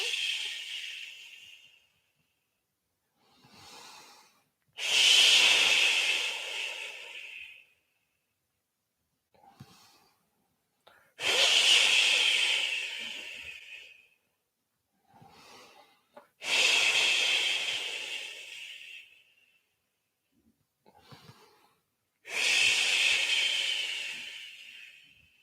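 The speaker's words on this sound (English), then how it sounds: "Breathing in and breathing out." Slow, deliberate breaths drawn in and pushed out during a qi gong exercise, four strong airy exhalations with a soft hiss at the end of each, spaced by quieter inhalations and pauses, close and alone without talk.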